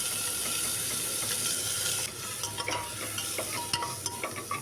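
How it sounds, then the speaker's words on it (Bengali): Chopped tomato, ginger and turmeric masala is stirred in a hot pan: a steady close sizzle at first, then a series of distinct scraping stirs over quieter frying. "একটু ভালো করে নাড়িয়ে নিয়ে"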